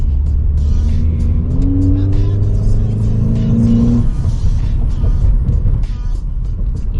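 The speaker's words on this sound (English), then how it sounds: "Car is warmed up. Let me do a quick pull for you guys." A 2008-12 Honda Accord 2.4L fitted with a cold air intake accelerates hard in a steady pull, the engine note rising in pitch for about four seconds before easing off into road and wind rumble.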